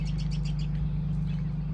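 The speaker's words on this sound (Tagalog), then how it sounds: "Nagma-migrate na sila mga kaburukdoy." Kaburukdoy birds calling during migration on an early morning walk, a quick run of four or five chirps followed by fainter calls, over a steady low hum.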